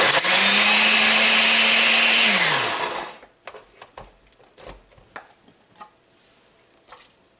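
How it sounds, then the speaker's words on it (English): A blender coarsely chopping small Mexican mangoes whirs loudly and steadily for about three seconds, then winds down, followed by scattered clicks and small knocks. "now I'm going to run them in my blender"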